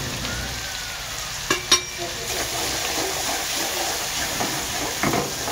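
Onion frying in a kadhai of hot oil with asafoetida and curry leaves for Maharashtrian zunka, a steady close sizzle throughout with a few sharp clinks of a spoon against the pan.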